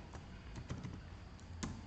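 Keys clack in brief, irregular taps on a computer keyboard while a GUI is built in Java AWT, the strokes soft and close with a low room hum beneath and no talking.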